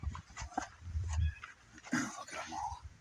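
A puppy outdoors near a garden crop whimpers and yips in short bursts, with low snuffling sounds between, fairly close and moderately quiet.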